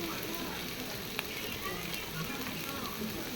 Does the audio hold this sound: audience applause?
no